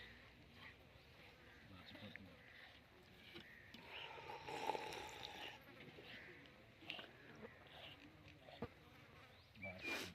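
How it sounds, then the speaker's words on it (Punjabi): Flies buzz faintly around over a quiet outdoor background, with distant animal bleats and some brief talking. "ਮੱਖੀ ਵੈਸੇ ਹੀ ਬੜੀ ਹੋ ਗਈ ਹੈ"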